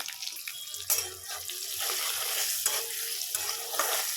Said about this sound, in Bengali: ফুলকপি আলু আমি এভাবেই ভাজি দিয়ে দিলাম ফুলকপি আলু